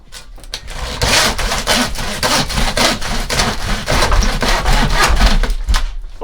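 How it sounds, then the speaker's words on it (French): A hand saw cuts through a taped craft creation with quick, loud, rhythmic back-and-forth rasping strokes, close up and steady for several seconds. "Pour le second test, eh bien, je vais le faire avec une scie,"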